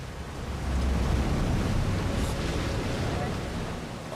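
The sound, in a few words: Atlantic waves around Viking ship Sea Stallion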